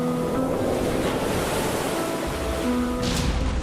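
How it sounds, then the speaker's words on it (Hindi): Storm George drives heavy ocean waves and gale winds of about 133 km/h along the coast of Ireland, with continuous loud surf and roaring wind buffeting the microphone and no voices. "डरा देने वाली समंदर की लहरें"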